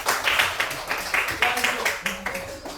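A classroom group claps in a quick, steady rhythm of sharp, evenly spaced hand strikes, with voices chanting or calling along underneath.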